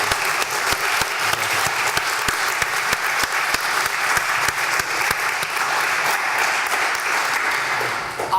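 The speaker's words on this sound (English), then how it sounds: "So please, a big round of applause for our expert witnesses." A big round of applause for the expert witnesses at a Hindu faith debate event in Leicester, a full, sustained burst of crowd clapping with sharp individual claps standing out, steady to the end.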